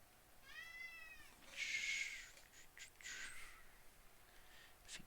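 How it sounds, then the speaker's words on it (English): A cat meows insistently nearby, a rising-falling cry followed by louder, harsher yowls and a couple of shorter calls, heard alone in a quiet room. "keeps meowing"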